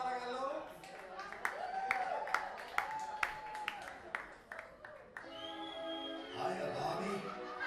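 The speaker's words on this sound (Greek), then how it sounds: "Χειροκρότημα παρακαλώ." Scattered audience clapping at a karaoke night comes in sharp, uneven bursts under a host speaking in Greek, with music and chatter rising toward the end.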